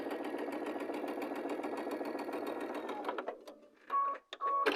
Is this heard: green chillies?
no